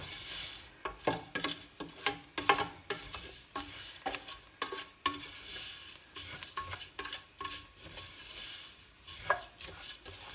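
Vermicelli milk pudding is stirred in a pan over lowered heat, a continuous run of scraping, clattering spoon strokes in an irregular rhythm over a faint bubbling hiss, close and moderately loud.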